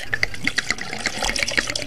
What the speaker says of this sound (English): I'm gonna start off by pouring a little bit of bleach where I forgot to